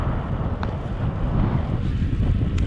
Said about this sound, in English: Another very windy day.